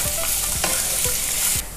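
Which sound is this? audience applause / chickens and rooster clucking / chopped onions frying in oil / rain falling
chopped onions frying in oil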